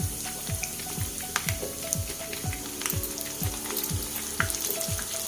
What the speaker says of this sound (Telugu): కరివేపాకు వేసుకొని కారం వేసుకుందాం.